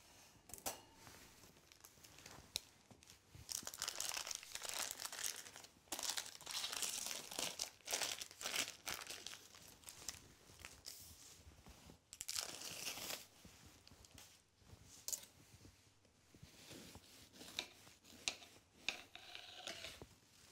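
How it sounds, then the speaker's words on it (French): A knife saws through a cake, cutting it in half through its crisp crust, producing close, repeated crunching and crackling strokes with brief pauses between them. "j'avais envie de couper un cake en deux pour vous présenter le moelleux du cake et le croustillant"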